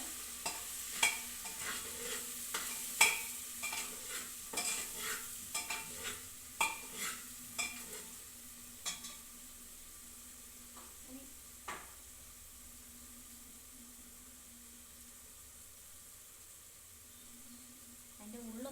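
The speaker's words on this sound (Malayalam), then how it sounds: "ഇതുപോലെ കേട്ടോ ഫ്രൈ ആവണത്." Spices frying in a pan for egg biryani, with a spoon scraping and clinking against the pot in quick bursts early on, then a faint steady sizzle under quiet room tone.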